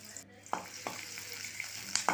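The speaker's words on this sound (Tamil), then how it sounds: "கொஞ்சமாக எண்ணெய் சேர்த்து கடுகு போட்டுடலாம் கூடவே பெரிய வெங்காயம்" Mustard seeds and onion frying in a little oil, quiet sizzling broken by several sharp spatula scrapes against the pan in quick succession.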